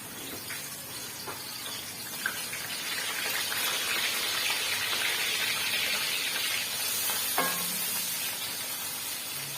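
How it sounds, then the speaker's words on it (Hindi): Onions sizzle steadily in a hot pot of oil for pulao, a continuous crackling hiss with small pops that swells slightly midway and holds at a moderate level throughout. "अब हम इसमें प्याज शामिल कर देते हैं।"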